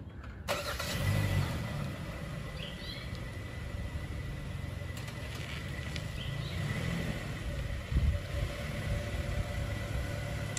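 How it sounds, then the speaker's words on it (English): A 2022 Hyundai Tucson Limited AWD starts remotely. Its engine catches near the start and then settles into a steady, moderate idle for several seconds, with no voices. "Let's go ahead and fire up the Smart Park here."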